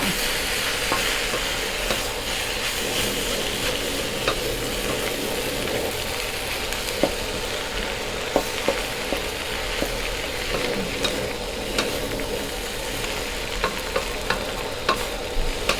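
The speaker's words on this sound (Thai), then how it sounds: "ใส่แห้งพัดทุกอย่างเข้ากันเสร็จเรียบร้อยเนาะ" Canned fish fried rice is stir-fried in a pan, a steady sizzling bed with frequent scraping spatula clicks and stirring knocks throughout, no voices.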